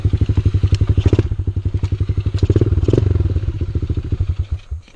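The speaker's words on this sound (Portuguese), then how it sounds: "vou deixar a mini moto aqui, ó. Pera aí que eu vou desligar." A mini motorbike's small engine idles close by with a rapid, steady putt-putt pulse, then sputters, slows and cuts off near the end.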